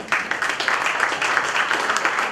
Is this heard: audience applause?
yes